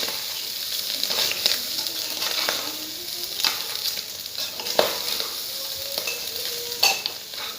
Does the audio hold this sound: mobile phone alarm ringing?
no